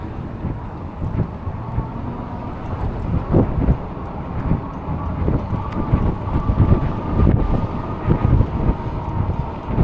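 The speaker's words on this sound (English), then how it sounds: "Pretty windy." Strong, gusty wind roars across the microphone on an eBike commute home through Orange County, a continuous buffeting rumble with irregular surges and no speech.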